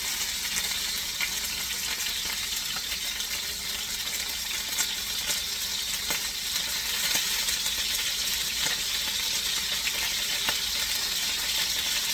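Monkfish pan-roasts in hot oil, a steady loud sizzle with scattered sharp pops and crackles running throughout, no voices.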